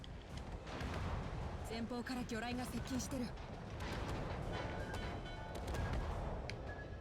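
Torpedo hits and explosions rumble against a ship in World of Warships Legends, a dense, loud roar of blasts and gunfire running throughout, with a voice speaking over part of it.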